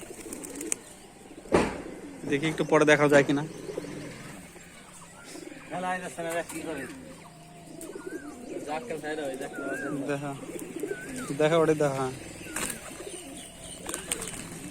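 Pet pigeons belonging to a Rajshahi keeper of high-flying birds coo in several short rolling bursts, close by, amid frequent conversation between men.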